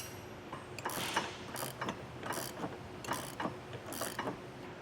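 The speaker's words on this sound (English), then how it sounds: "And I'll get these tightened and torqued down." A ratchet wrench tightening nylock nuts on a hidden hitch receiver of a 2019 Land Rover, with quiet, repeated bursts of clicking in an uneven rhythm and nobody talking.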